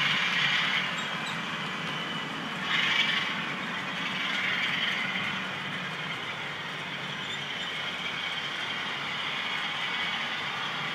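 A Bachmann Class 47 model diesel locomotive passes along a computer-controlled model railway track, giving a steady close whirring and rolling rumble with slight swells, without speech.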